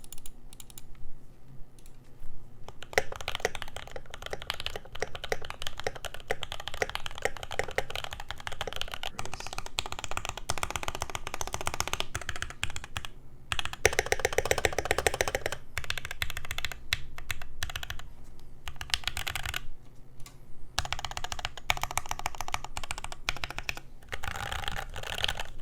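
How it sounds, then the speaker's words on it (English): Typing on a Keebwerk Mega mechanical keyboard fitted with case foam and PCB foam produces a dense, fast stream of close keystroke clacks with brief pauses and a few heavier bursts. "The alpha sound pretty good with the case foam and PCB foam, but it starts falling apart at the modifiers and the spacebar."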